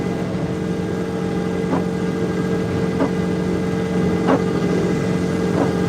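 A tuned and deleted GMC Denali Duramax diesel truck idles nearby with a steady low rumble and a constant hum, faint taps recurring through it.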